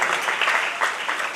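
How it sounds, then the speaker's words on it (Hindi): Audience applause at a Gopashtami celebration, a brief, dense burst of clapping from a crowd, fairly close and continuous. "आपके हाथ खुलेंगे और तालियों से करेंगे इजाफा"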